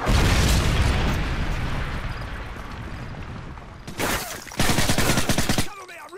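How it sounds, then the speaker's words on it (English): Explosions and rapid gunfire from a multiplayer shooter video game during a Predator missile strike, a dense roar of booms and bursts that fades, then returns as two sharp loud volleys near the end. "friendly Predator missile inbound"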